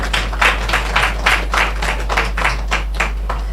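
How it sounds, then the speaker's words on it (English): Audience applause at the opening of a tourism office in Black River, Jamaica, heard as a sparse, rhythmic series of distinct claps over a steady low hum. "Marlene Stevenson-Daly, I want to give her a very nice round of applause"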